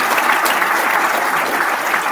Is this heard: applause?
yes